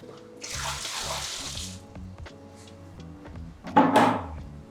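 Ten liters of already-cooked carob syrup from a first batch pour into a pan for a second cooking in traditional Maltese syrup making, a thick, gurgling pour with clunks of metal pans, and a brief louder splash near the end.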